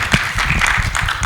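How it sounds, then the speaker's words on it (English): An audience at a youth leadership event in the IGAD region claps, a brief dense patter of applause heard fairly close and steady. "Please, a round of applause for yourself."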